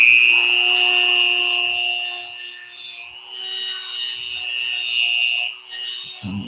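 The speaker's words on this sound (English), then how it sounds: "sound you might be hearing is just me trying to hit this skull with an orbital sander" Orbital sander grinding against a skull, a loud continuous high whine with steady overtones that dips and shifts pitch as pressure changes, ending with a brief knock.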